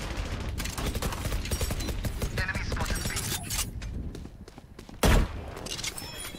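Gunfire in Valorant, rapid bursts of shots for the first few seconds, then quieter shuffling and a single sharp loud shot near the end, with some faint game noise between.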